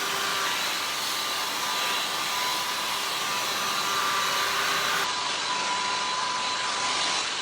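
Hair dryer blowing on hair, a steady, loud, close whoosh with a faint motor whine and no pause from start to finish.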